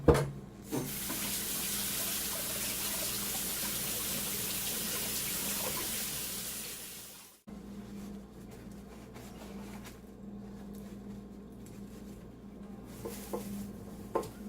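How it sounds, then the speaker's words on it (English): A kitchen tap runs steadily while hands are washed beneath it, a close, continuous rush of water for about seven seconds before cutting off, followed by quieter kitchen room noise. "I'm going to wash my hands"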